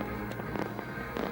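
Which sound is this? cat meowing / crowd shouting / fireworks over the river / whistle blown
fireworks over the river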